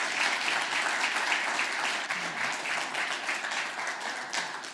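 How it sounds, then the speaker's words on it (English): Audience at a Dallas press club event applauds steadily, a dense even wash of clapping that carries through the whole stretch with no voices on top. "Please, a round of applause for them."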